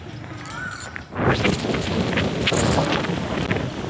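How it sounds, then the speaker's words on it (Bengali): Strong storm wind roars in as continuous broadband rushing and buffeting against the microphone, steady and loud for most of the clip under a dark, stormy sky. "অনেক বেশি হাওয়া।"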